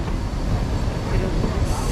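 Train rolling through a redwood forest near Santa Cruz, a continuous low rumble and rattling of the cars heard from close by, steady and fairly loud.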